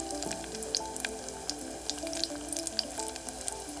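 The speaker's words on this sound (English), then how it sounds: "When the rack is all filled up, it's ready to go into the deep fryer." Bannock, or fry bread, held under on a rack, cooks in a commercial deep fryer with a continuous bubbling sizzle and frequent sharp pops and crackles close by.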